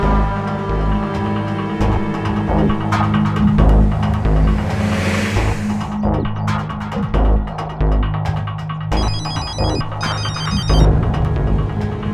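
A telephone rings in short repeated bursts over a thick bed of music and low throbbing hum, fairly loud and busy.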